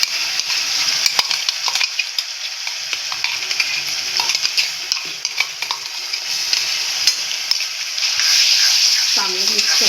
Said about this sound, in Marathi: हे जे अद्रक, लसूण, कोथिंबीर, हिरवी मिरचीची जी पेस्ट आहे ना ती टाकून